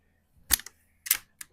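A vintage El Gamo model 68 .22 caliber break-barrel air rifle fires in a garage at metal silhouettes, giving two sharp, close, snappy cracks about half a second apart, each followed by a short fainter tick.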